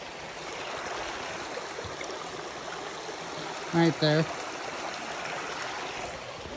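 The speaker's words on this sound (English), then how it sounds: "Looks like we got to cross a creek here." Creek water flows and trickles steadily nearby on a canyon trail, a constant rushing babble, with a person briefly speaking a couple of words partway through.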